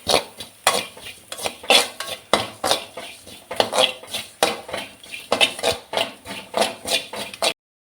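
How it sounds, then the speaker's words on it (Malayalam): A spoon scrapes and clanks around a pan as grated coconut and curry leaves are stirred, repeated rhythmic strokes of metal on metal close by with a faint sizzle beneath. "കരിവേപ്പിലയും കാര്യങ്ങളും ചേർത്തത് നല്ലപോലെ ഇളക്കുകയാണ്."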